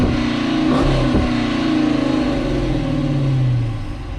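A Chrysler 300C sedan with a Hemi V8 revs up steadily, its mid-range engine note rising and falling close by, held back below about 4,000 rpm, with no talking.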